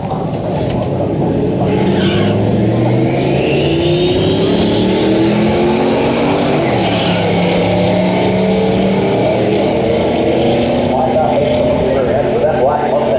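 A turbocharged LS-powered Mustang makes a drag racing pass with a loud, sustained engine roar that rises through rising pitch sweeps as it accelerates, with people talking over it throughout.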